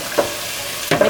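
Two brief stirs of poultry seasoning through vegetables in a frying pan for a vegan walnut pasta, each a short scrape with a soft sizzle underneath, the second slightly louder and longer.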